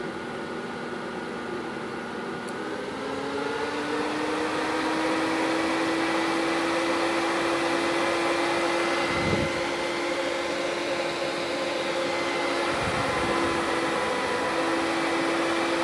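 Two 12-volt greenhouse fans run together with a steady whirring hum and airy rush, their tone rising slightly as they spin up, then holding constant with a couple of brief thumps.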